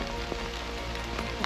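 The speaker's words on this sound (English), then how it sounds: "This is not what you want in the pissing rain." Heavy rain pours onto a broken tarp at a wild camp with no tent, a dense steady patter that stays loud and close throughout, with a few sharper drips landing on the sheet.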